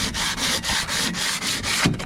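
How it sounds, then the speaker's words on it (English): Sanding rust off a steel brake rotor by hand: rhythmic back-and-forth abrasive rubbing strokes, about seven in quick succession, close and fairly loud, with no voices. "So I'm gonna try to sand some of this stuff off."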